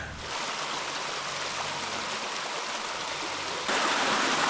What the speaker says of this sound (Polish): Takie potoczki zawsze w cenie.